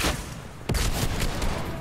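Rocket launcher fire in the video game Fortnite: a sharp explosive blast cuts through a dense, noisy game mix, followed by sustained rumbling and crackling impacts.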